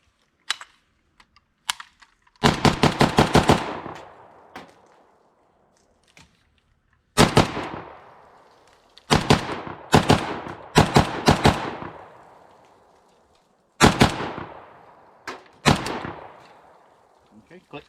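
A PSA AK-74 rifle fires off the rest of its magazine outdoors in loud, sharp bursts and single shots with ringing echo tails, separated by pauses, with occasional talk between strings of fire.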